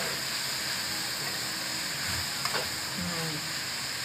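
Carrots stir-fried in a pan for sotanghon with lobster balls, a steady broadband sizzle and hiss with faint scraping stirs, no one talking.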